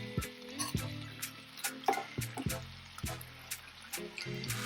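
Beef and sautéed onions tossed in sauce in a wok give a soft, continuous sizzle, with light scrapes and clinks of the spatula repeating every half second or so, close and fairly quiet.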